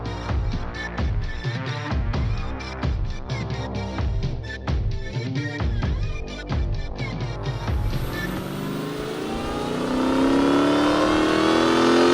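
A drag-racing car runs on a chassis dyno, its engine revving hard in rapid pulsing bursts, then climbing into a long rising wail as the run builds, loud and close with no talk.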